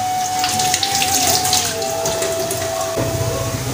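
Tap water runs steadily over minced meat being washed in a home kitchen sink, a continuous splashing hiss with a faint tonal ring, the flow shifting slightly near the end.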